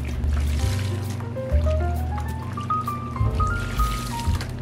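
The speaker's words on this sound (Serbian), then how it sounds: "u tu čistu vodu jednostavno isperite krpu ili uzmite novu" Cleaning cloth sloshes and drips while being rinsed and wrung in a basin of clean water, a close, steady trickle with a rising tonal whine in the background.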